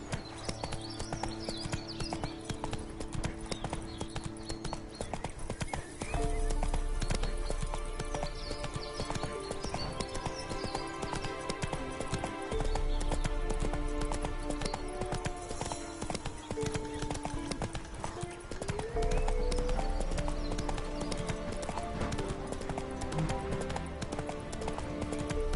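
Roach, the horse in The Witcher 3: Wild Hunt, gallops with rapid rhythmic hoofbeats and an occasional whinny under a steady game music score for the whole stretch.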